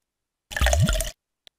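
Cartoon water pouring from a container into a bath in a kids' bubble bath game: one short, bright, bubbly splash of under a second, then a tiny drip-like blip, with no talking.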